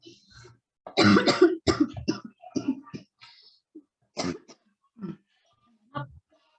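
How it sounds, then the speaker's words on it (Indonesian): A person coughs repeatedly, with a harsh burst followed by several rasping coughs and throat clearing, tapering into isolated short coughs. "Agak mengganggu saya batukan, ya."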